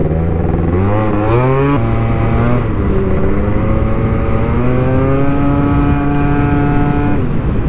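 A Yamaha 125cc two-stroke scooter fitted with a full Malossi kit buzzes loudly and close while riding, its sharp engine note climbing through gears with rising revs and brief drops between shifts.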